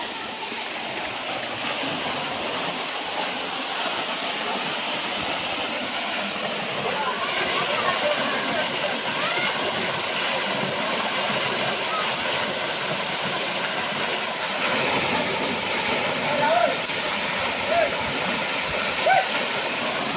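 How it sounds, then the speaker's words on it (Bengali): Water tumbling down a waterfall at Hailakandi makes a steady, roaring hiss, close and unbroken for twenty seconds, with only slight swells and no clear talk above it. "ওই দেখুন বন্ধুরা কি সুন্দর ঝর্ণা পড়ে"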